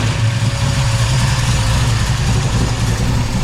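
A 440 V8 in a 1968 Dodge Charger, fitted with a Holley Sniper fuel injection and running a little rich, holds a loud, steady low rumble close by with an even, unchanging tone and no voices.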